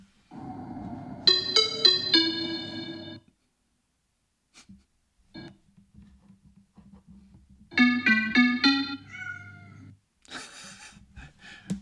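Electronic, effect-processed cat meows sound in Vozo's digital artwork Encounter, with two clusters of stuttering, pitched meow tones separated by a long quiet stretch with faint ticks and a soft hum.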